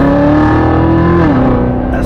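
A hand-assembled car engine accelerates away, its steady, loud droning tone dipping in pitch partway through, heard alone with no talking.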